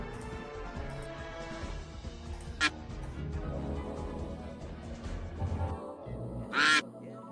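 Cartoon duck quacks from a micro duck race in a video game, a few sharp honking calls over a busy bed of game music and layered effects, the loudest quack near the end.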